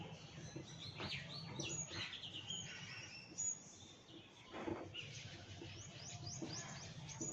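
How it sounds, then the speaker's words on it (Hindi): Small birds chirp and tweet in quick bursts at a moderate distance, a steady scatter of calls over faint background hum. "आपको अभी भी सुनाई पड़ रहा होगा कि चिड़िया जो है ना चहचहा रही है"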